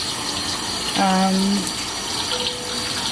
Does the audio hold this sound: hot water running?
yes